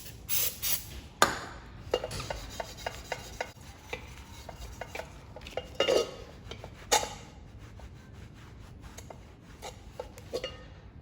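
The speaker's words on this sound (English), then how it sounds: "I grab a little carb cleaner, soak my steel wool, and just rub it, and that paint will come right off." Carb-cleaner-soaked steel wool scrubbed against a painted rally wheel to strip the paint, heard as a run of short scratchy rubbing strokes with small metallic clinks, close and fairly quiet, with no talking.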